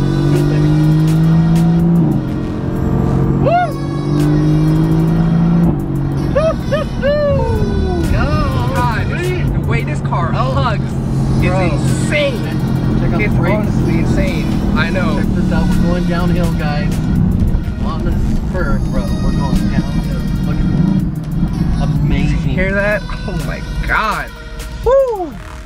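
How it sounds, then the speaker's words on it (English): A 2018 Mercedes-AMG GT S with a twin-turbocharged 4-liter V8 accelerates hard, its loud engine roar rising and falling continuously throughout, with people talking excitedly over it. "You know that this twin turbocharged 4-liter V8 is just really something else"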